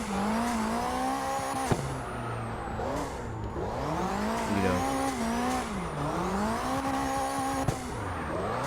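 A car drifting in CarX, engine revving and dropping in repeated sweeping arcs as the tires squeal through several slides, loud and close throughout with short sharp clicks at gear shifts.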